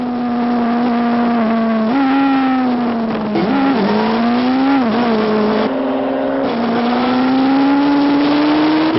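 A Kawasaki Ninja ZX12R and a Suzuki GSXR 1300 Hayabusa racing at around 240 to 250 km/h, a loud sustained engine drone whose pitch dips and climbs with gear changes and throttle, steady throughout.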